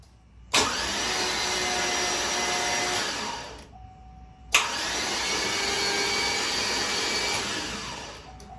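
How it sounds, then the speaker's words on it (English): An LS V8 engine with its valve covers off, turned over by the starter motor in two sustained bursts of steady whirring cranking, close and loud, each lasting about three to four seconds with a short pause between. "I'm gonna crank the motor over with the starter just to make sure I don't have any problems while it's still open."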